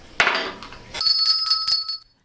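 A hand bell in a morning-show studio rings after a sharp clatter, several quick bright metallic strikes producing a clear sustained ringing that lasts about a second before cutting off.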